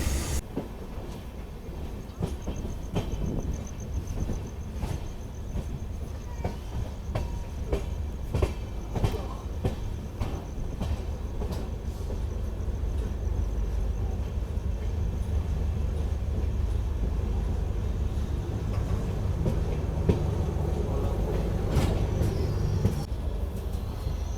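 A passenger train on the Pune to Kolhapur line rolls along the rails with a continuous low rumble and recurring clickety-clack of wheels over joints, steady and fairly close throughout.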